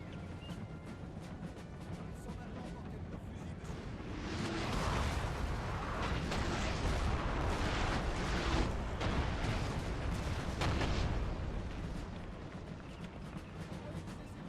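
Sustained cannon and musket fire in a Napoleon: Total War battle with British forces, a dense rumbling roar of volleys and blasts that swells louder through the middle and eases toward the end.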